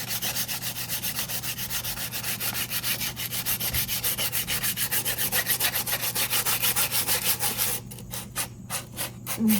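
Sandpaper rubbed back and forth over a wooden spoon, a loud rhythmic scratchy rasp in quick even strokes, close and continuous with no voices.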